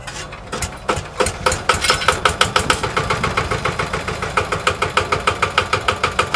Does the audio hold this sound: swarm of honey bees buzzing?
no